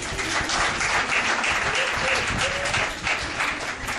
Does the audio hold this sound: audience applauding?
yes